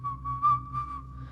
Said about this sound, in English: The whistling was right outside our house now.